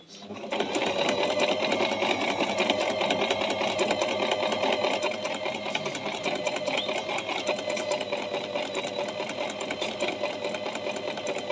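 A Singer digital sewing machine, Model 1408, runs steadily with a fast, even mechanical whir and stitching buzz, close and loud for the whole stretch after a brief start.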